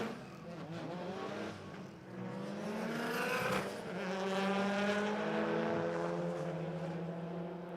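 A 2.1 litre Brumby drag race car engine revs hard and loud, its harsh harmonic note climbing steadily in pitch as it pulls through the run, with no talking.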